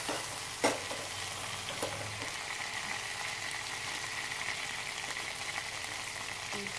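Oil frying in a pan while cooking methi matar malai, a constant close hiss of sizzling with one sharp knock near the start and faint stirring.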